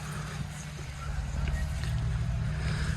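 A generator engine runs steadily with a deep, constant droning hum that doesn't let up, along with some faint wind-like noise.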